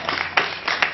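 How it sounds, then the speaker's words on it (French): Audience clapping at a live concert stage show, a steady bright wash of applause with a few louder swells, no voices over it. "Je vous prie d'applaudir quelqu'un."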